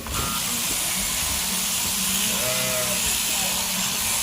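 Steady mechanical hiss and buzz of electric shears running continuously, with scattered sheep bleats and faint voices in a busy shed.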